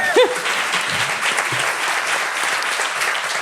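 An audience at a talk on ecology applauds Diane Strauss, director of the Transport & Environment NGO's France office, with sustained, even clapping from a sizeable crowd and a brief voice sound at the very start.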